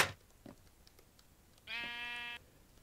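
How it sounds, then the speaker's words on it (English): A single sheep bleat from the Minecraft video game, a clear harmonic, slightly wavering call of under a second that rises out of quiet background and stands alone. "Yeah, sheep!"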